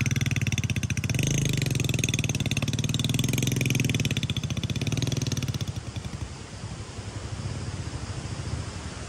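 A loaded motorcycle's engine drones steadily up close, loud and rough at first, then eases lower and quieter toward the end.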